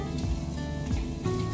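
Mustard seeds sizzle and crackle in hot oil in a home kitchen, a fine continuous frying hiss with soft scattered pops under a steady hum.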